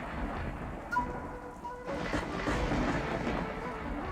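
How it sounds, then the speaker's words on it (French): Stage storm effect of steady rain with a rumble of thunder, a dense continuous hiss that swells louder partway through, playing alone without talk in a pirate-themed show. "Même quand l'orage vient."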